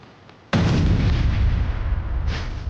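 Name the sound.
bomb explosion sound effect in TV drama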